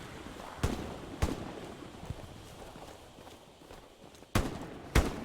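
In the World War II shooter Hell Let Loose, nearby gunfire rings out as sharp single cracks, two early and two more after a pause, over a quiet outdoor battlefield background.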